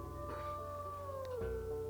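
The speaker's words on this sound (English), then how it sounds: "Aries just growled at Driftwood" Wolf in the video game WolfQuest giving a low, drawn-out vocalization, a steady tonal sound that slides downward near the end over a constant game ambience.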